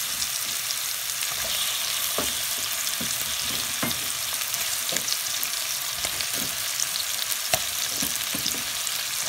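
Potatoes fry in a pan with a steady close sizzle, broken by scattered sharp scrapes and clicks of stirring, loud and alone.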